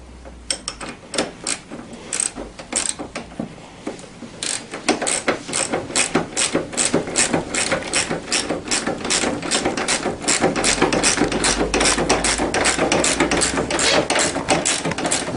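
A socket ratchet tightens the steering column nut on a TaoTao CY50A scooter, giving long runs of close, crisp clicking in steady back-and-forth bursts that grow denser and continue almost without pause.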